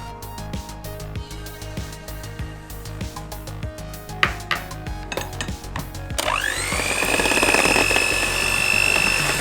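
Ingredients tapped and stirred into orange cake batter in a bowl, a run of irregular knocks and clinks, then an electric mixer starts and whirs loudly and steadily to the end.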